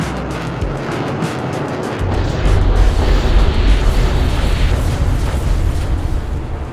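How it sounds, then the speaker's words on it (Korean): A dramatized bomb drop over Tokyo during a wartime air raid, with a heavy rumbling blast that swells after a couple of seconds into a sustained, loud low roar of explosion and destruction. "폭탄 투하"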